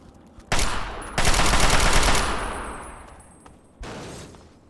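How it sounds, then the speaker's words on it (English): An assault rifle fires in Fallout 3's Capital Wasteland in two loud, close bursts of rapid automatic fire with a trailing echo. After a pause, a single short burst follows. "Yeah, this assault rifle is so useful"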